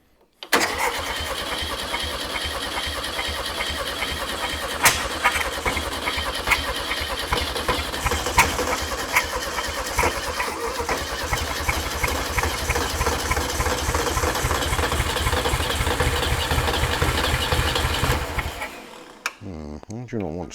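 Air-cooled VW Beetle 1500 engine that had not run for 50 years, cranking and catching into loud, rough, rapid running that surges, then cuts out near the end, with speech faintly mixed in.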